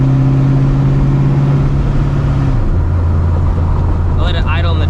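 A supercharged New Edge Mustang GT V8 idling in a driveway, a steady low rumble with a slight drop in pitch partway through, while a person talks over it.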